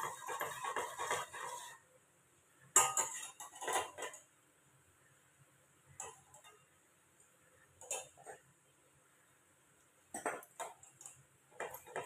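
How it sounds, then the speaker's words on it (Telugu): A spoon clinks and scrapes against a pot while flour mixture is stirred into boiling water for baby food, in short intermittent bursts of metallic tapping separated by quiet pauses. "బాయిల్ అయినప్పుడు ఇప్పుడు ఈ బౌల్లో కలిపిన పిండి దీంట్లో వేసుకొని వెంటనే స్పూన్తో కలుపుకోవాలి"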